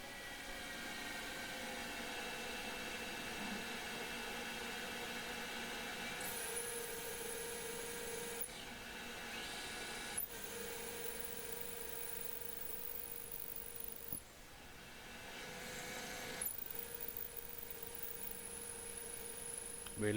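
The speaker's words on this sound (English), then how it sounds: "Drill's just getting on with the job nicely." A CNC lathe drills into 2011 aluminium, giving a steady low machine hum with a high-pitched whine that cuts in and out in several stretches, close and fairly quiet.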